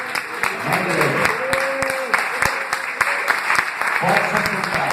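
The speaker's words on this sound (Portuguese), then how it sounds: "nós queremos te dar uma salva de palmas" Church congregation applause during a service: steady clapping from many hands with sharp individual claps standing out, while a voice talks over it and a sustained musical tone sounds in the background.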